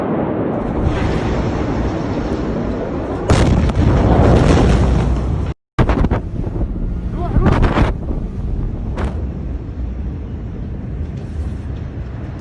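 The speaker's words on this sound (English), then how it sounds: "This explosion happened by the Lebanese port" Massive ammonium nitrate explosion at the Lebanese port, heard as a loud, sustained roaring blast with heavy wind-buffeted rumble, a brief dropout, then continuing turbulent noise and faint distant voices.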